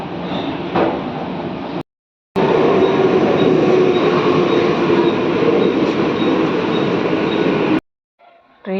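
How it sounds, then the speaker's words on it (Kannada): A Vande Bharat express train arriving at a station, a loud steady rumble and rolling hum of railcars with brief breaks, heard up close. "ಟ್ರೈನ್ ಬತ್ತು"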